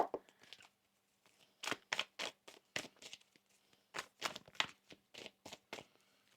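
Tarot cards shuffled by hand in a quiet room, giving a string of quick, crisp papery riffles in two bursts separated by a short pause, close and fairly soft.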